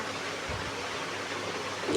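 Flowing water in the Minecraft video game, a steady broadband rushing wash throughout, even and continuous with no talking.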